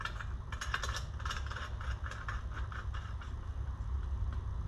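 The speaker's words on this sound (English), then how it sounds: "Nozzles unscrew." The nozzle of a paint spray gun is unscrewed by hand, giving a run of quick, close metallic rattles and clicks over a steady low background hum.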